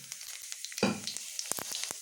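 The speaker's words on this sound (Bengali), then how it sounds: "কড়াই বসিয়ে দিয়েছি, তেল গরম হয়ে গেছে। দিয়ে দিব একটু গোটা জিরা" Whole cumin seeds dropped into hot oil in a wok burst into a sudden sizzle, followed by scattered crackling pops, close by and fairly quiet.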